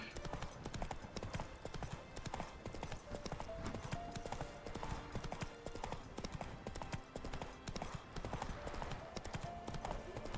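Horse hooves clip-clopping in a steady, continuous trot in The Witcher 3 game, a fairly faint rhythm under game music and ambient sound.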